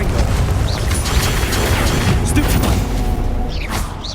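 A Confringo blasting spell explodes in the Hogwarts Legacy video game, a dense, loud, continuous burst of booming, crashing effects over busy game noise, with a voice briefly calling out near the end.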